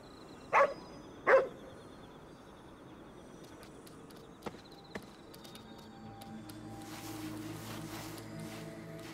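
A dog in the game Ghostwire: Tokyo gives two clear barks close by, followed by faint clicks and a rising wash of ambient water and wind noise.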